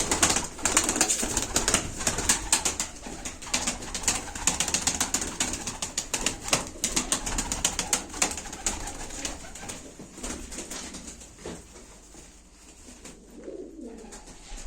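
Pigeons at a live pigeon auction coo in a close, steady chorus, with scattered sharp rustles and wing flaps breaking through the dense murmur.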